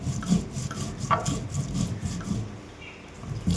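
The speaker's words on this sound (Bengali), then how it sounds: "এবার মশলাটা বেটে নেব।" Spices are ground by hand on a stone slab, a rough rhythmic scraping and rubbing of stone on stone that repeats in short strokes, close and alone.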